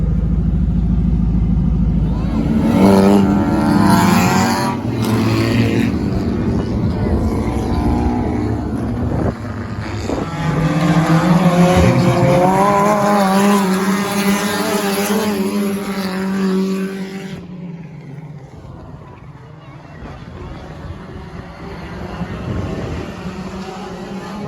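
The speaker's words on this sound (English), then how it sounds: "watching an idiot like me go do burnouts in a van" A turbo LS-powered caravan van doing burnouts at a local burnout competition: loud, sustained engine roar rising and falling in pitch with hard revving, easing off toward the end.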